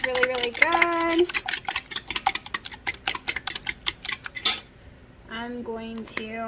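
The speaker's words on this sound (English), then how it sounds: "Just going to mix these really, really good." Waffle batter being mixed in a bowl, a utensil clicking and clinking rapidly against the sides in quick close strokes, with brief tonal sounds at the start and end and a short pause before the final tones.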